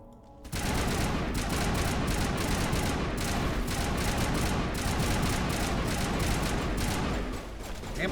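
Heavy gunfire during a firefight in the Mass Effect 1 video game: a loud, dense, continuous volley of rapid shots that runs for several seconds after a short quiet start.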